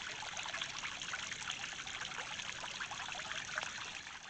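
A small pump-driven water feature trickles steadily and continuously, a close, even splashing and dribbling with no talk over it.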